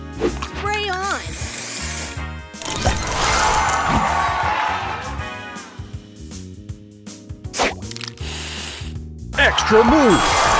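The spray booster in the mobile game Match Masters goes off as hissing sprays and crashing bursts, mixed with chirpy game effects and short synthetic voice snippets in a busy, uneven stream.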